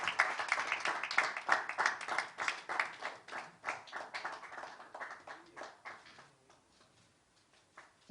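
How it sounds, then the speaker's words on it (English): Audience clapping at a press conference for a pickleball championship, fairly close and rhythmic at first, then thinning out and fading to scattered claps before stopping. "So big round of applause, Seema."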